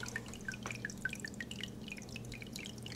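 Water drips and trickles steadily inside a LetPot and iDOO hydroponic growing system, quick light plinks repeating over a low constant pump hum, close and quiet.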